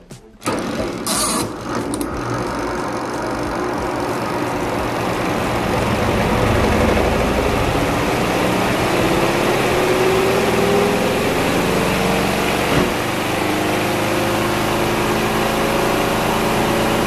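A Panda portable washer and dryer runs its spin cycle, giving off a loud, steady mechanical hum and whir that holds constant for a long stretch after a few brief knocks at start-up.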